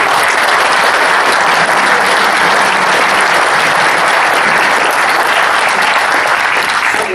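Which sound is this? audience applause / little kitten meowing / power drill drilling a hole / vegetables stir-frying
audience applause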